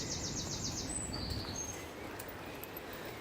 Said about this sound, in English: Gorgeous birds.